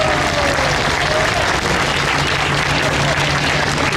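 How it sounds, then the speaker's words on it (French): A group of passengers on the MS Astoria cruise ship, sailing near the Arctic Circle off Iceland and Greenland, applauds steadily and loudly throughout, with a constant dense wash of clapping and some crowd murmur. "On les applaudit bien fort."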